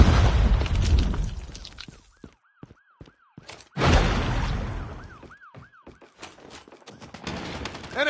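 A frag grenade blast in Call of Duty Mobile during a 3v3 tournament match: a loud boom opens, a second heavy explosion hits midway, and sharp bursts of gunfire and rising electronic game tones come between them.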